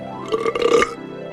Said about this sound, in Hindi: ड्रैगन ने जोर से डकार ली।